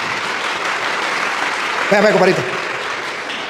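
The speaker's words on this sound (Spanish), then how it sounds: "Aplausos pues para el Señor y para este hermano" Applause from a church audience fills the room, a dense steady clatter of many hands, while someone briefly speaks over it near the middle.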